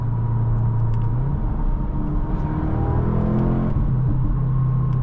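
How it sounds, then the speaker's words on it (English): A 2023 Audi S3 Premium Plus four-cylinder engine drones steadily from inside the cabin while driving, a deep continuous hum that rises in pitch mid-clip, then drops and settles, with no talking. "And I really like the way this 4-cylinder sounds."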